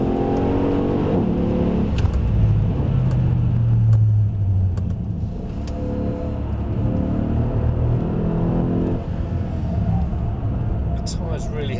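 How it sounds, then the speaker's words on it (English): A race car laps a drying track, its engine droning and revving with the tyres hissing and scrubbing for grip, heard close from onboard under continuous talk. "You can just hear the tyres working now."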